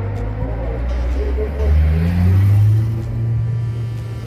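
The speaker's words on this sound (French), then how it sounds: "Donc là les gars il y a une GT4. Porsche GT4 Cayman." Porsche GT4 Cayman engine at the 24 Hours of Le Mans parking, a low rumbling idle that rises into a brief rev and eases back, heard close with people talking over it.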